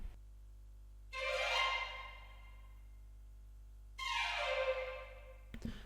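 A Kontakt Sinistrings Run Scale Trills sample plays two rapid string runs sweeping upward, each swelling loudly then fading, separated by a quiet gap, with a brief click at the end.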